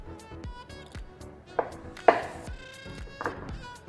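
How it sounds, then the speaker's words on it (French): Knife slicing the tops off round courgettes on a cutting board, a series of crisp chopping knocks at an uneven pace, close and clear over a faint background of music. "pour les courgettes rondes, vous allez couper le chapeau"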